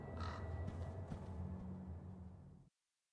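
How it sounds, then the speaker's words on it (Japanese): Crow cawing in the background, a few harsh calls early over a dense low hum, fairly faint and distant before cutting off abruptly. "カラス。"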